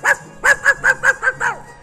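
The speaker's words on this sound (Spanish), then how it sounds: "Los perros los persiguen." Dogs chasing a raccoon and a wild boar give a loud close run of about seven sharp barks in quick, fairly even succession.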